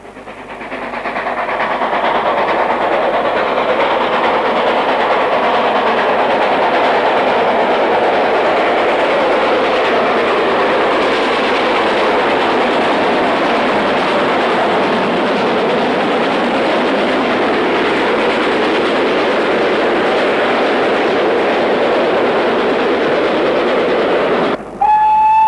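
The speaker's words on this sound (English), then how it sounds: "as a train climbs towards the summit, south of Goathland" A train on the North Yorkshire Moors Railway climbs toward the summit south of Goathland, a loud steady rumble of rolling wagons and clattering wheels that fills the whole stretch without pause, with no voices.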